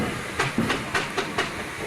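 A steam traction engine with a good head of steam, steady loud hiss with rhythmic chuffing pulses about four times a second, close up.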